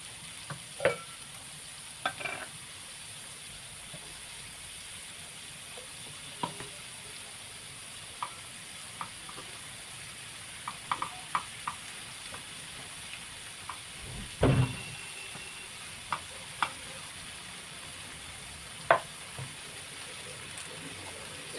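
Onion frying in oil for a pea and mushroom curry, a low steady sizzle with occasional stirring clicks and a louder scrape partway through, no talking.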